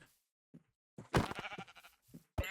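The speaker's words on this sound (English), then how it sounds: "Come here, sheep." Minecraft sheep bleating in short, separate bursts, fairly close, with a few brief quieter calls in between and no talk.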